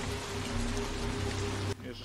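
Steady rain pours down at night in a movie scene, a dense continuous hiss of drops on surfaces with a low rumble underneath, loud and close, cutting off abruptly near the end.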